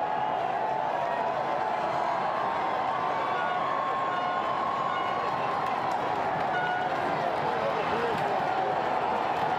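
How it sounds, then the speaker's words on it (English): A huge, loud crowd roars and cheers continuously along the street at the Boston Celtics 2024 NBA championship parade, a dense sustained wall of voices with someone talking over it. "I have not seen a louder crowd in Boston until this very moment"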